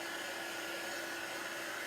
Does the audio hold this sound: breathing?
no